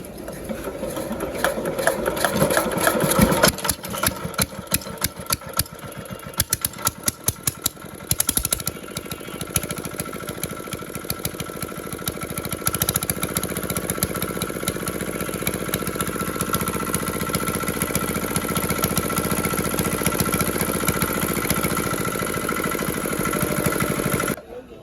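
A second-hand CD R175 6.6 HP single-cylinder diesel engine runs without a silencer, a loud, harsh, rapid chatter that stutters and surges early on, then settles into a steady, relentless clatter.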